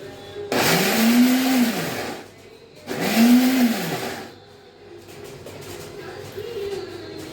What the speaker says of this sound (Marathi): अशा प्रकारे आपण सर्व मके दाणे मिक्सरला लावून घेऊया